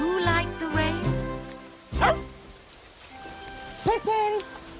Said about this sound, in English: It's raining, it's pouring, the rain is never boring.